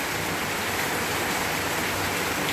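A downpour from Hurricane Irma in western Puerto Rico keeps up a constant, thick rushing hiss, close and loud, with no pauses and nobody speaking.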